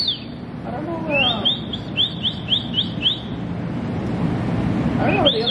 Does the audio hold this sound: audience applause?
no